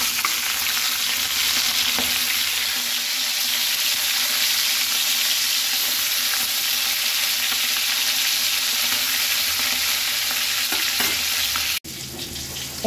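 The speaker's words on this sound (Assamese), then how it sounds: "এইফালে এয়া মাছখিনি ভাজি আছে" Fish frying in a pan gives a steady, close sizzle and crackle that runs unbroken for about twelve seconds, then cuts off briefly with a sharp drop before resuming.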